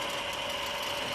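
A lathe turns slowly at dead-slow speed during a knurling operation on a workpiece in a machine shop, giving a faint, steady mechanical hum with a whining tone that lasts only a moment.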